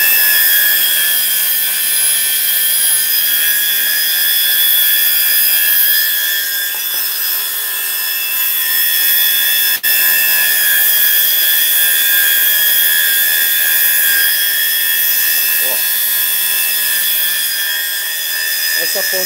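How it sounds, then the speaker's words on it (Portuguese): Steady high-pitched whine of a bench grinder touching up the tip of a pair of scissors, running continuously at close range with little change in level and a faint brief contact scrape partway through. "vamos dar mais uma passada no esmeril aqui na pontinha só"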